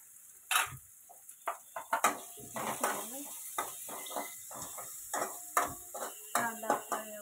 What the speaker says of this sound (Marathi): कांदा चांगला लाल परतायचा, लाल भाजायचा।